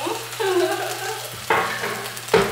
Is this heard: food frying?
yes